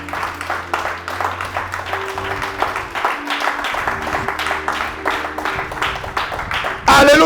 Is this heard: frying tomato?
no